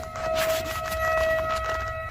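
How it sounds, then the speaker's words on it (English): A high-pitched siren holds a steady, piercing tone like a long car horn, sounding unbroken and fairly loud over faint background noise. "the sirens sound quite high-pitched, almost like a car horn beeping long and restlessly"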